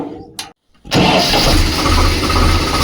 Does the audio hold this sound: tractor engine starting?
yes